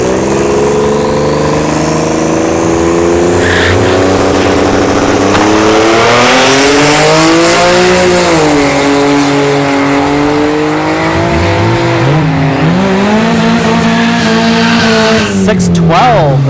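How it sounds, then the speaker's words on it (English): A Tesla Plaid and a Turbo V6 Mustang launch side by side at a drag strip. Loud engine roar rises and sweeps in pitch through the run, with tire noise and a commentator talking over it throughout. "we got the Andrew with the Tesla Plaid channel on the left lane, and the Turbo V6 Mustang here on the right"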